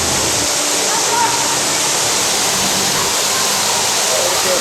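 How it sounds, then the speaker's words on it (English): Ruby Falls, the underground waterfall in a Chattanooga cave, roars as a loud, steady broadband rush of falling water heard up close from the walkway behind it, filling the whole clip without letup. "Walking right behind the waterfall."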